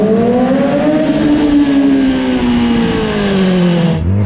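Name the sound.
Yamaha YZF R6 motorcycle accelerating from first gear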